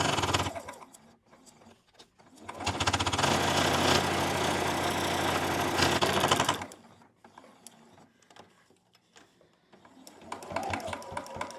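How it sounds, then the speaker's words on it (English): A sewing machine stitches steadily around the edge of a scrappy rainbow mug rug. A fast, even mechanical whir runs for several seconds between quieter handling sounds, then stops, with brief clicks before and after. "I can cut my starting thread, and then I can just finish stitching around."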